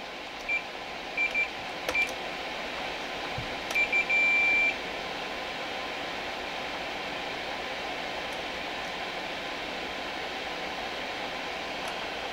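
A continuity tester checking wiring inside a Vox AC30 guitar amp gives a few short, high beeps and one longer tone over a steady hiss, with quiet gaps in between.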